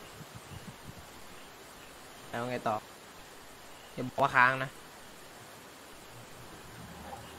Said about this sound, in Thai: มาปุ๊บมีเสียงฝนมาอันดับแรก